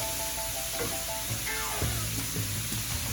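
Cauliflower rice sautés with onions and garlic in a pan, a steady soft sizzle running throughout, with a few light utensil scrapes and clinks mixed in; no voices.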